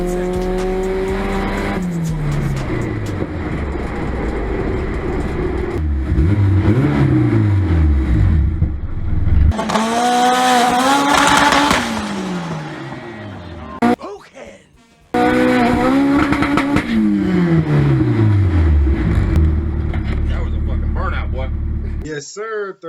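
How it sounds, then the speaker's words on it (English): A 5.0 Mustang roars through a third gear burnout, engine revving hard in loud rising and falling sweeps with tire squeal, a brief drop near the middle before it surges again, close and dominant throughout. "Third gear burnout."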